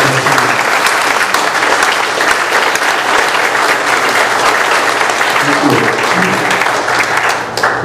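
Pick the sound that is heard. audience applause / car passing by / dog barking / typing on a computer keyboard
audience applause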